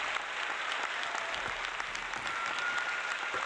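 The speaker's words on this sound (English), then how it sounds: "So give yourself a round of applause." Applause from a live retro gaming trivia stream audience, a steady wash of clapping that holds evenly throughout at moderate loudness.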